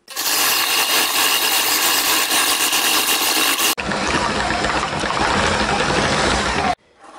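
An electric meat grinder mincing hot peppers whirs loudly and continuously, its motor tone shifting midway as the load changes, then cutting off abruptly near the end.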